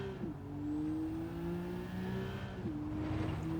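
A game race car accelerates hard with a steady engine tone that climbs through gears, a brief dip near a shift, loud and continuous with no talk.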